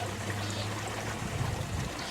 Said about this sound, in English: You hear all them water sounds?